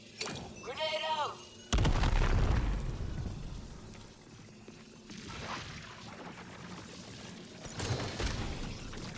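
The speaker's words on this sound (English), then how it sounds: "Grenade out." A grenade detonates in the video game Marathon with a sudden loud, deep boom that rumbles and decays, and smaller bursts follow later. A voice speaks briefly just before the blast.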